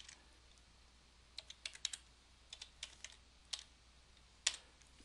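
Password being typed on a computer keyboard in an office, heard as scattered light key clicks in short bursts, close and fairly quiet over faint background hum, with no talking.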